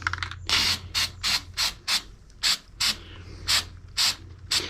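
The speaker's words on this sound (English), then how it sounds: "Now we're going to use the spray rubberization" A spray can applies rubberized coating to the tailgate hinges of a 2001 Chevy 2500HD Silverado in about a dozen short, sharp hissing bursts, close and loud with brief pauses between them.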